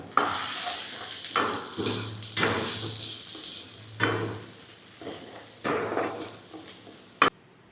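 Shredded cabbage, carrot and beans stir-fry in a hot pan for street-style gobi fried rice, a loud bright sizzle with repeated scrapes and knocks of a spatula stirring, ending on a sharp metallic clank.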